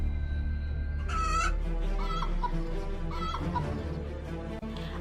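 A rooster clucking in a fox and cock story, several short clucking calls over a steady low background hum, fairly close, with no speech.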